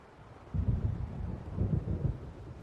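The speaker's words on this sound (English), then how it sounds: "It seems there's a storm coming." Low, rolling thunder from an approaching storm in the video game Alan Wake Remastered, starting quietly and swelling into a heavy rumble with a couple of separate surges, alone with no talking.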